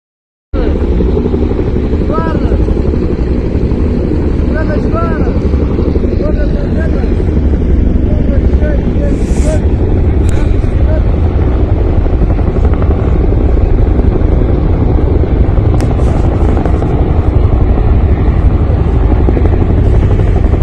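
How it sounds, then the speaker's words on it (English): Many military helicopters fly over Afghan airspace, a loud, continuous low rotor thrum and engine roar close by, with voices talking faintly underneath throughout. "I don't know why else you would fly this many helicopters into Afghan airspace."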